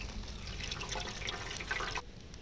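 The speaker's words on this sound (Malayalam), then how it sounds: "നമുക്കിതിലേക്ക് കുറച്ച് വെള്ളം ഒഴിച്ചു കൊടുക്കാം." Water is poured into a pot set up for steaming fish wrapped in banana leaf, a soft, quiet trickling splash that runs for about two seconds and then stops.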